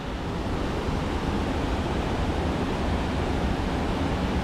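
The Napne waterfall in Maharashtra produces a steady, dense roar of rushing water, loud and unbroken throughout with no voices over it.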